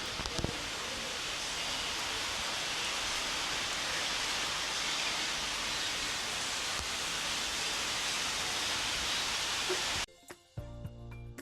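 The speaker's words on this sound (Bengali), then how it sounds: "সেই দেখি বৃষ্টি পড়ছে" Light to moderate rain falls steadily outdoors for about ten seconds as a dense, even hiss, then cuts off abruptly into a quieter, different background with a few faint knocks.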